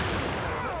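A grenade blast in a video game: one short, dense burst of noise that fills the moment with a rumbling roar.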